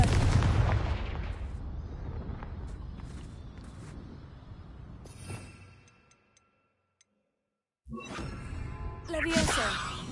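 Confringo fire spell blasts in the video game Hogwarts Legacy: a series of sharp cracking bursts over rumbling debris that fade into near silence, then a fresh loud burst of blasts and whooshes.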